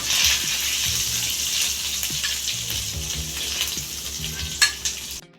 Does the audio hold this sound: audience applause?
no